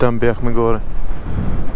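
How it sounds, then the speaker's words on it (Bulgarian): A brief stretch of speech, then steady low, rushing strong wind buffeting the microphone during an enduro ride near Gabrovo. "Вятър е невероятен, най-вероятно се чува."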